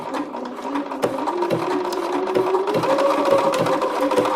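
A Bernina sewing machine stitches fabric with a rapid, steady mechanical chatter of needle strokes, close and continuous, with a few sharper clicks along the way.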